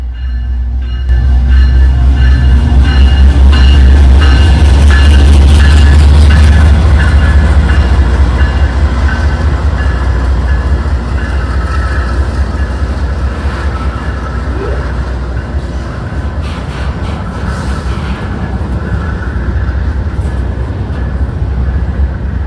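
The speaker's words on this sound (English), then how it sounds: "The train in question was an extra run of a daily job, NS I-78" Norfolk Southern double-stack freight train NS I-78 rolls past close by, a loud steady rumble of wagons with rhythmic clatter and squeal that eases slightly toward the end.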